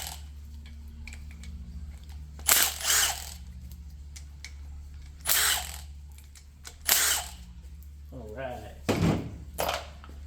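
Ratchet with a 10 mm socket loosening oil pump bolts on a Mazda RX8 Renesis rotary engine in a garage, several short bursts of close, rapid clicking separated by pauses, with a faint steady hum behind.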